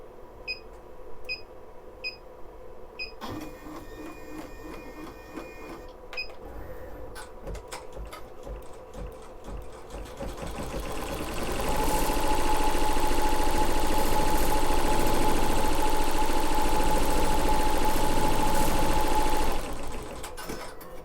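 An embroidery machine stitches a placement outline on a towel, first with a few electronic beeps and soft clicks, then a loud, steady, rapid mechanical whir holding for several seconds before it stops, close by.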